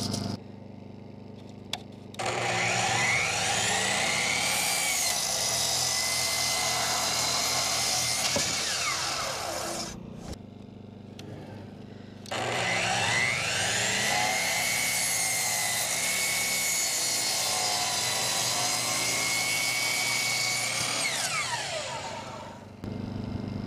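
A power saw cuts lumber for the sides of a wood-framed aquarium tank stand, running in two long, loud, steady passes of about eight and eleven seconds, with a short quiet pause between them and no talking.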